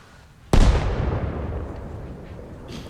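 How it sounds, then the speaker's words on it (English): A mortar round, likely in a video game, fires and explodes with one sudden loud boom that decays into a long rumbling tail, with a faint burst late in the clip. "That's where I want my mortar rounds to hit. So I'm going to send a round down range."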